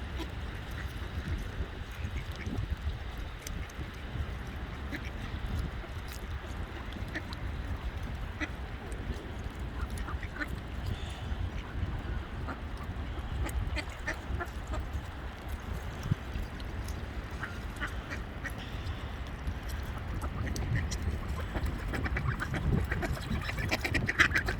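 Mallard ducks on slippery ice, scattered quacks and honks against a continuous low rumble of outdoor wind and background noise, fairly distant and irregular throughout.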